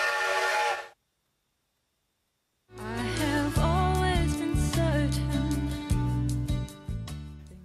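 A train whistle in a film set in Ireland: a short bright whistle blast, a second of silence, then a loud sustained steam-style whistle with layered tones that wavers and holds for several seconds, heard alone without talk.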